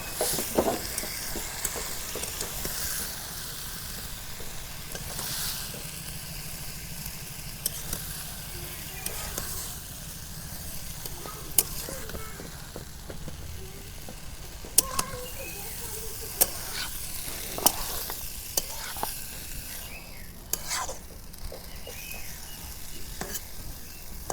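Mola fish and potato curry simmering and sizzling softly in a pan while being stirred, with steady low frying hiss and occasional sharp spatula scrapes and clicks throughout.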